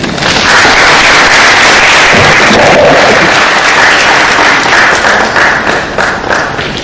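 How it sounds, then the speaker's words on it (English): An audience applauds after a presentation at the CardExpo Africa 2015 opening ceremony, a loud, sustained roar of many clapping hands that thins slightly toward the end. "Let's have a round of applause for Mr. John Chaplin"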